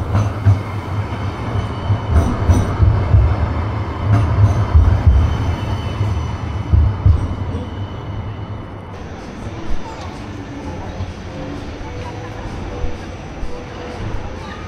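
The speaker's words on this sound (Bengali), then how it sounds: "বার্মিংহামে ট্রাম লাইন আছে। এখন দেখবো আমরা ট্রাম।" A tram rolls past on the tram line in Birmingham, a loud low rumble with wheel and rail noise that fades as it moves off, while people talk nearby in the street.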